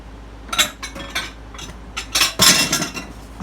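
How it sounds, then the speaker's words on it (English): Buttermilk, egg and sugar are mixed together in a bowl for old-fashioned tea cakes, with a run of close, irregular clinks and scrapes of a utensil against the bowl, loudest near the end. "Mix my buttermilk, my egg, my sugar all together"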